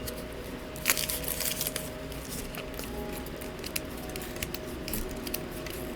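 Scissors cut open the packaging of the Mutant Year Zero: Zone Wars miniature game, making quiet, close snips with faint crinkling and crackling of plastic.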